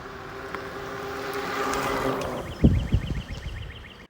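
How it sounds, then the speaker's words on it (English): Aventon Sinch folding e-bike rolls along on huge fat tires, giving a steady whirring hum and tire drone that builds gradually, then a few sharp bumps and clatters near the end, with no talking. "These huge tires definitely provide a really comfortable ride, but it is way noisier than a traditional e-bike with regular tires."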